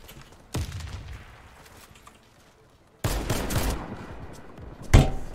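FAMAS rifle fire in the shooter game Warface on a dark map, heard as two loud, sudden broadband bursts separated by a quieter stretch, ending in a sharp close crack.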